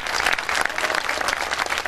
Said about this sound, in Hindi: आपकी कमजोर तालियां इस कविता को कमजोर कर रही है